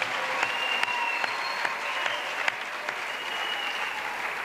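A congregation applauding at an evangelistic crusade revival service, a steady dense wash of clapping with sharp individual claps standing out, sustained throughout with no talk.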